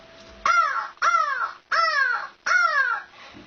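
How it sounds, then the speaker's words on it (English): A crow caws four times in a steady series, loud and close, each harsh call dropping slightly in pitch, with no other voices. "Crow."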